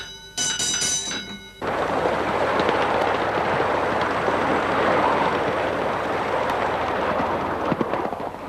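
A steady mechanical rumble and hiss of a miniature steam train running on the Great Cockcrow Railway near London, with a brief harmonic whistle-like tone at the start before the continuous chugging noise.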